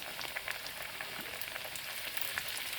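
Cajun-seasoned ling fish pieces frying in hot oil, a dense, steady crackling sizzle with tiny pops throughout, close and continuous with no speech.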